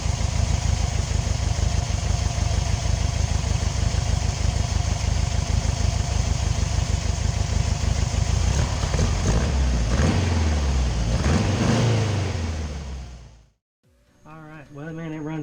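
A Volkswagen bus engine fitted with Kadron carburetors runs at a steady, loud idle with dense mechanical clatter for about thirteen seconds, then cuts off abruptly before a brief stretch of muffled rumble returns.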